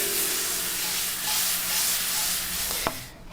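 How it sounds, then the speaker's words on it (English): Tomatoes and onions sauté together in a pan for bruschetta, giving a steady, close sizzling hiss that runs throughout, with one sharp utensil tap near the end. "We'll let that saute for about 3 or 4 minutes until the tomatoes soften up and the onions as well"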